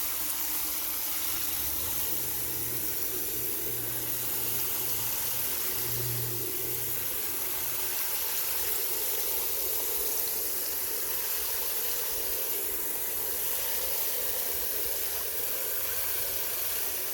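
Water runs steadily into a 5-gallon bucket for compost tea, a constant rushing hiss lasting the whole stretch with a faint low hum underneath.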